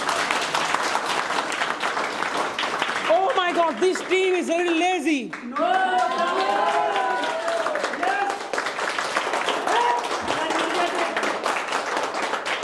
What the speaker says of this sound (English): clap for your team, right?